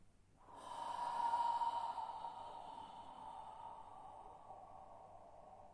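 A single long exhale during a stretching exercise, a soft breathy rush that swells quickly, then slowly fades over several seconds, close and quiet with no speech.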